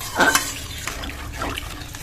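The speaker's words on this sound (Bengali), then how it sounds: "জল দিয়ে দেব" Water being poured into a simmering spice mixture for a Bengali posto dish with potatoes, a short splashing gush followed by bubbling and a brief second splash, close and fairly loud.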